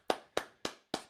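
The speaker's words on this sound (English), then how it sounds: "Big round of applause." Four slow, evenly spaced hand claps sound close and fairly quiet, with nothing else around them, as a round of applause for Brian Plummer.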